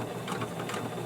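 A sewing machine stitching diagonally across a fabric face mask, a quick even burst of needle clatter heard close and fairly quiet, with no talking.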